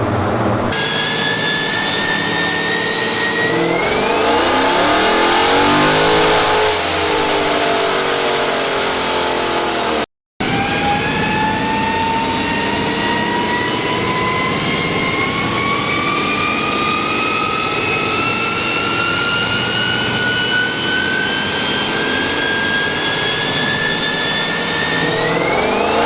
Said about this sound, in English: We also have our 2023 Scat, RT Scat on dyno, strapped down.